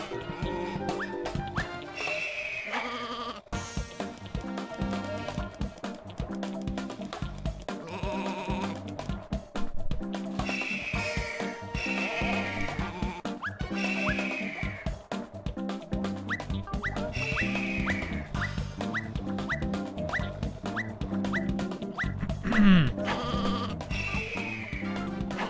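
Sheep bleat repeatedly in the video game Looney Tunes: Sheep Raider, the cries recurring every few seconds over a busy backdrop of game music and sound effects.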